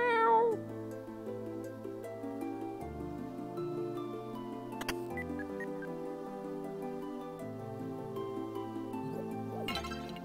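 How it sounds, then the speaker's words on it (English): A cat in the PS1 game Dragon Quest 7 gives a short, bright meow at the start, followed by gentle tinkling game music that plays on alone. "Kitty!"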